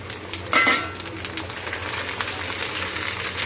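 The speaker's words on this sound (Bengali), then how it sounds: "এখানে এলাচ লং ডালচিনি তেজপাতা আছে, দিয়ে দিচ্ছি" Whole spices (cardamom, cloves, cinnamon, bay leaf) dropped into hot oil for khichuri, with a clinking drop near the start, then a steady soft sizzle and faint utensil sounds throughout.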